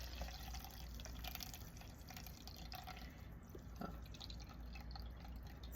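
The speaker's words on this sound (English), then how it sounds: "And I just simply pour it in my cup." Detox tea is poured from a container through a strainer into a cup, a steady faint trickle and splashing of liquid running for several seconds without pause, with no voices.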